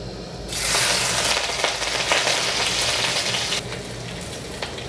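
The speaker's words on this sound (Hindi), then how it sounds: "तो सबसे पहले मैं इसमें से मिर्च डाल रही हूँ।" Green chillies dropped into hot oil in a pan for vegetable chow mein, a sudden loud crackling sizzle that holds steady and then eases slightly, close up with no talk.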